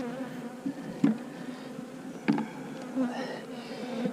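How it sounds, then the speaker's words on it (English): Honey bees buzzing over a frame from a hive, a soft steady hum with a few closer, louder buzzes passing by the microphone. "There's enough bees in here to keep that cell warm."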